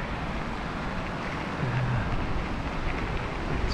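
Molonglo River floodwater rushes over a bridge in a steady, broad roar of turbulent water, continuous and fairly loud throughout, with wind buffeting the microphone.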